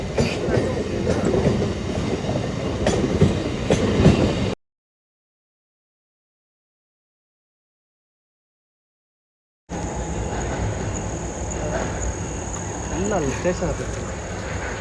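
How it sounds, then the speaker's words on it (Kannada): A train heading to Mysuru at Srirangapatna passes with a steady rumbling roar and carriage noise, broken by a stretch of complete silence before the rumble resumes, with people talking nearby. "ಟ್ರೈನ್ ಹೋಗ್ತಾ ಇದೆ ಮೈಸೂರಿಗೆ"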